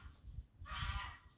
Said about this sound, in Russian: Ой, гуси